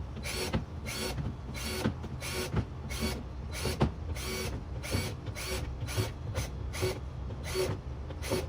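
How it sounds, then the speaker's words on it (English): Rapid repeated whirring bursts, about a dozen short drill runs in a steady rhythm over a constant background hum, as holes are drilled one after another into a plastic worm bin. "So let's go ahead and drill some holes."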